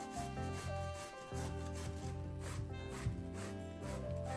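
Zucchini is rubbed against the coarse side of a kitchen grater, giving a close, repeated scraping rasp in even strokes, fairly quiet, with a steady musical tone running underneath.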